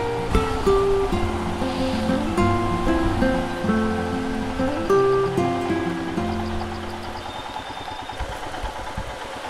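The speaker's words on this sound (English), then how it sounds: "The river Trishuli." The Trishuli River rushes nearby in a steady broadband roar, partly covered by a motorcycle engine idling and revving with shifting pitch.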